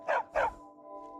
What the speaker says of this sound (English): A war dog is good company and good protection.